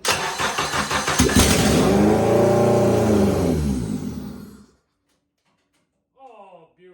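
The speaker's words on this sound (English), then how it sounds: "Cranking the motor over, everything's hooked up, ready to go." An Acura RSX engine cranks, catches and revs up loudly up close, the roar swelling and then cutting off abruptly, followed by a short burst of speech.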